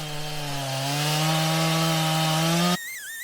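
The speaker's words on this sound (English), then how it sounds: "I'm trying to take a chainsaw and cut off as much as I can" A chainsaw cuts into a tree stump with a loud, steady, high-revving engine drone that holds for almost three seconds and then drops off sharply near the end.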